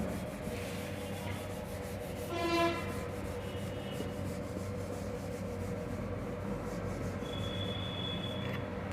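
Writing is rubbed off a board with a duster in steady, repeated scrubbing strokes, a close, rough rasping that keeps going throughout, with a faint tonal sound in the background.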